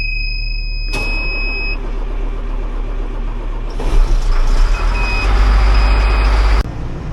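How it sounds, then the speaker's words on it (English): A vehicle's reversing alarm beeps steadily over a loud, rumbling engine idling nearby, with the engine swelling louder partway through. "Time for the horrible beeping noise."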